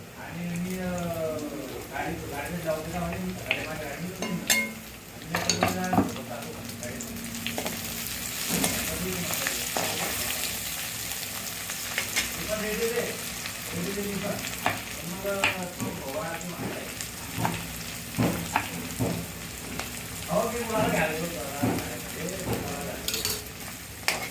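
Green chilies and onions sizzle steadily in hot oil while cooking for egg biryani, with occasional clinks of a spoon stirring the pan and a voice talking over the frying.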